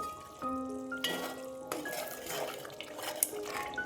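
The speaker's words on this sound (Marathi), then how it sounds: "रशाला चांगली आता उकळी आलेली आहे बघू शकता आपण हे आता थोडंसं हलवून घेऊया" A metal spoon scrapes and clinks against a pot of boiling egg curry gravy, with a few sharp ringing taps and soft bubbling, close and fairly quiet with no talk.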